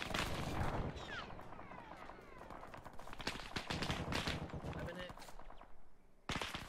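Gunfire in Arma 3 strikes a tank turret, a rapid run of loud, close shots and bursts with several heavy impacts. A player's voice talks over the firing.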